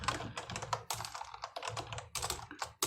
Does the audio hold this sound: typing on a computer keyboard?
yes